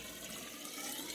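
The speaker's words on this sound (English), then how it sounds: "Grab a hose, if you have one, and start filling this sucker full of water." Water from a garden hose filling a sand point well pipe, a steady broadband rushing and gurgling flow, continuous and fairly quiet throughout with no voices.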